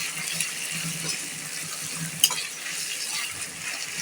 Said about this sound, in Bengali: এখানে আদা রসুনটা ভালো করে ভেজে নেব,